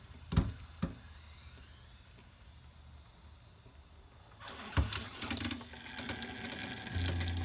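Water running from an RV hot water line tap during winterizing, a few knocks early on, then a louder gushing splash that starts partway through and keeps flowing to the end.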